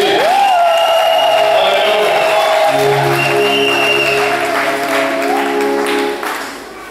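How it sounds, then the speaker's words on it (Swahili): A church congregation claps together during an Easter Sunday service, loud and sustained at first, while sung or held voices carry over it before the applause tapers off near the end. "Pigie Yesu makofi."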